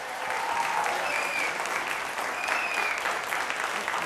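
A studio audience gives sustained, even applause as a band is introduced on an Italian live TV show, with the clapping filling the moment alone.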